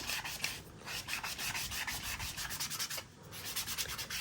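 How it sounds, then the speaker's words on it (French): Hand sanding on a wooden salt and pepper mill blank being prepared for resin, a close, steady rasping rub in quick back-and-forth strokes that pause briefly near the end. "Donc, c'est suffisamment poncé."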